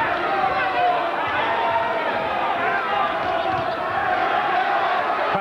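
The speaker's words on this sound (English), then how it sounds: "the crowd spurring them on. They've done it right from the start, and it's getting louder as we go on now." A boxing crowd cheers steadily at a Sugar Gibiliru versus John Doherty fight, a dense, continuous roar of many voices that stays loud throughout.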